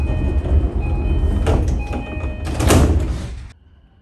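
Boarding a Keiyo Line local train: a station hum, a short chime, then a loud rush of sliding doors moving and thudding shut before the sound abruptly drops off.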